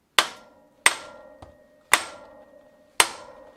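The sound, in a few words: hammer striking bicycle cotter pin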